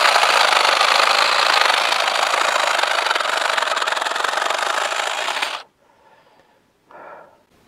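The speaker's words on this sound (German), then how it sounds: "nach 5 Jahren lässt der Motor ein bisschen nach" Cordless hedge trimmer with a five-year-old, slightly weakened motor, running as a loud steady buzzing whine for over five seconds, then stopping abruptly before a short faint restart burst.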